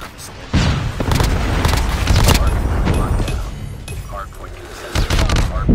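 A predator missile strikes in a multiplayer hardpoint shooter, letting out a heavy boom with a rumbling tail. Bursts of gunfire and more impacts continue loud and close around it, and game voice lines play alongside.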